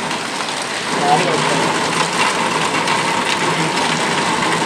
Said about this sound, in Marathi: पाऊस कंटिन्यू पडतोय